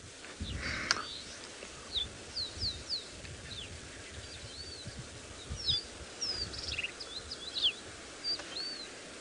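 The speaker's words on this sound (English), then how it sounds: "you can already hear there's quite a lot more bird activity around the river edge" Small birds call from bushes along a riverbank during an early-morning safari drive, a scatter of short chirps and whistled notes in repeated bursts over a faint low rumble.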